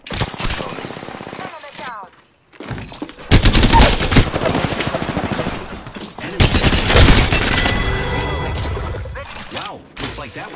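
Video game gunfire in a squad shooter, loud bursts of rapid automatic fire with a short silent gap, mixed with game effects and occasional voices.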